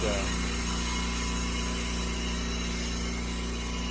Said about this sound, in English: I'm gonna make the best of it and sand this out a little bit